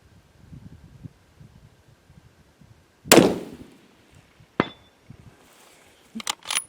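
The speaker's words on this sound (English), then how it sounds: "Christensen Arms, Summit, TITH, 140 grain Berger with a Night Force NXS. Here we go, first shot at distance." A single sharp rifle shot from a Christensen Arms Summit Ti with 140 grain Berger rounds, fired at a 400-yard range: one loud, abrupt crack with a short decaying tail, followed by a couple of fainter clicks and metallic ticks.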